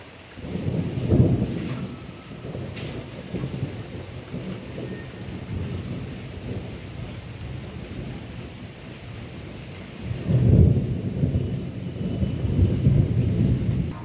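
Steady rain falls outside during an evening at home, a continuous broad wash of drops with low rumbling swells near the start and again toward the end, heard alone without talk.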